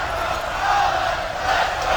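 A large arena crowd at the 2017 Counter-Strike final between Astralis and Virtus Pro roars in a dense, steady wall of cheering and chanting.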